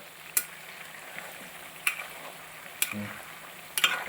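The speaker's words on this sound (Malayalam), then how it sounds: "നമ്മുടെ കേര പീസ് ഇത് വറവായിക്കൊണ്ടിരിക്കുന്നു" Pieces of kera (tuna) fish for pickle fry in hot oil, a soft steady sizzle with several sharp clinks of a utensil against the pan at intervals, close and without talk.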